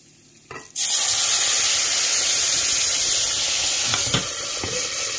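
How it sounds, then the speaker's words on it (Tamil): Chutney poured into very hot oil while making ragi moringa adai and rose chutney, erupting after a quiet moment into a loud, sustained sizzle and hiss with a couple of faint knocks later on. "எண்ணெய் நல்லா காஞ்சிருந்ததுனால அப்படி தெரிக்கும்"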